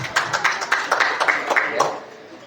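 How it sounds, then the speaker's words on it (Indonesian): Audience applause after a halal bihalal talk on cooperatives, a steady patter of many hands clapping at moderate distance for a couple of seconds, then fading out. "Tepuk tangan untuk beliau."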